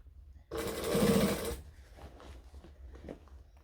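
A sewing machine stitching a bag lining runs in one loud burst of about a second, followed by quieter handling and fabric rustles.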